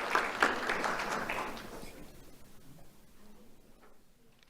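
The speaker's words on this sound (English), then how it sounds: "Let's have a round of applause for Julian Rivera." An audience at a community awards ceremony claps, loud at first and then fading away over a few seconds.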